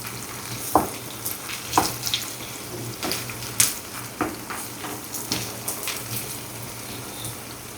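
Eggplant and onion frying in a pan: a steady, soft sizzle with intermittent scraping stir clicks and clinks at a regular pace, fairly quiet.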